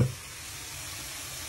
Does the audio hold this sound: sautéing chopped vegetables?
yes